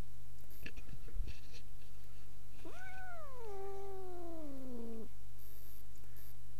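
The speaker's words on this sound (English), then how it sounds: "Is that some cat at the door wanted to come into the studio?" A cat at a studio door gives one long, drawn-out meow with a falling pitch, clear and close over a steady background hum, with some faint scratching beforehand.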